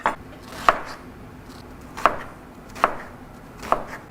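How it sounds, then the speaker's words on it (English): A knife dicing onions on a cutting board, with five sharp, separate chops spaced irregularly and heard up close in a quiet kitchen, with no talking. "next we're going to start chopping up the onions."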